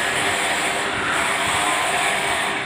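A jet power generator runs at a building site where steel roof trusses are being installed, giving off a steady, loud, airy whine and rumble without a break.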